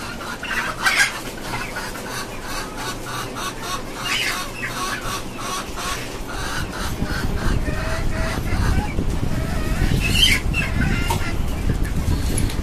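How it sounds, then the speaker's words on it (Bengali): Desi hens kept in cages on a small poultry farm, one of them having just laid an egg, cluck in scattered bursts. Metallic rattles and clanks sound over a busy, continuous background. "এই যে কিছু দেশি মুরগি, এই মুরগিটা আজকে ডিম পারছে কিছুক্ষণ আগে।"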